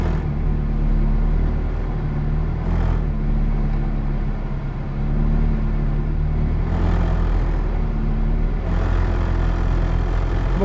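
A McLaren 620R rolling down the pit lane at Silverstone, heard from inside as a loud, steady low engine drone with a deep rumble that swells slightly now and then, no voices.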